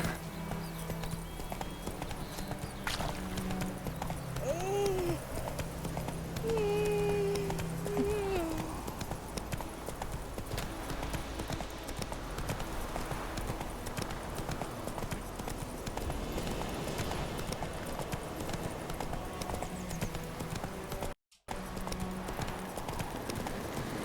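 Roach, the horse in The Witcher 3, gallops with rapid rhythmic hoofbeats over a constant bed of game music and ambience, with a brief whinny early on and a player's voice talking over parts of it.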